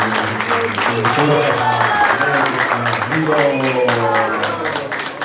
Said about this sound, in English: let's do a big round of applause to this great